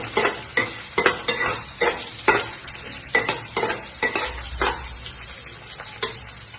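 Green chillies frying in a pan for kara pongal, stirred with a spoon in close, uneven scrapes and knocks over a light sizzle, with no talk.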